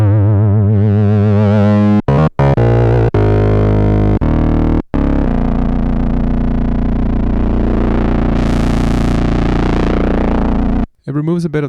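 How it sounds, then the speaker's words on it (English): A DSI Pro 2 synthesizer plays a loud, gritty bass patch with distortion, holding dense sustained notes broken by a few abrupt cuts and shifting, buzzing modulation. "Let's see what a bit of distortion sounds like."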